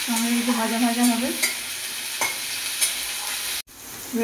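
Chopped tomato with cumin seeds, bay leaf and cinnamon sizzling in hot oil in a pan, a continuous close frying hiss with occasional light stirring scrapes, briefly cut off near the end.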